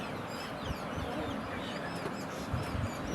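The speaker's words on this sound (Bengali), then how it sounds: "তো এই যে হলো মুরগি" Chickens on a farm cluck and call in short, scattered bursts at moderate distance, fairly soft against a background of low ambient noise.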